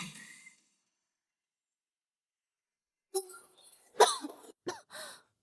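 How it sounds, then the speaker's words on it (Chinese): Coughs from a person in a historical palace drama, a few short harsh bursts after a near-silent stretch, close and fairly loud, with no talk over them. "你怎么还在咳嗽？"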